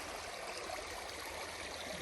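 A creek swollen after heavy rains, the water rushing and gurgling in a steady, even wash that sounds close and continuous with no talking over it.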